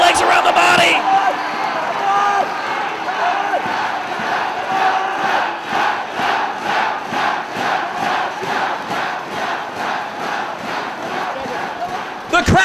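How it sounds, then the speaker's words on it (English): A Ring of Honor wrestling crowd at the 5th Year Festival screams and chants for Morishima to tap out of Samoa Joe's rear naked choke, loud sustained roaring with rhythmic pulsing chants and a commentator talking over it. "The crowd screaming for Morishima to tap"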